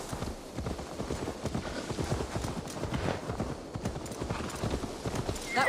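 Horse galloping in the video game Assassin's Creed Valhalla, rapid rhythmic hoofbeats drumming continuously and fairly close, with a brief whinny-like sound near the end.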